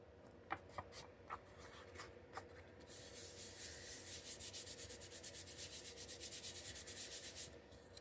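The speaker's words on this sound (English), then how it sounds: "The good thing about using book page, it is so easy to sand through." Paper is sanded by hand, first with a few separate light scuffs, then a steady run of quick back-and-forth rasping strokes that stays close and fairly loud, with no one talking.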